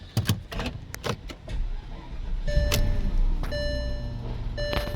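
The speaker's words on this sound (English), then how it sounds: "let me see if I can start the car" Porsche 955 being started after an airbag light fix, with clicks and key or ignition sounds, then a steady engine hum with chimes or beeps repeating over it, close by.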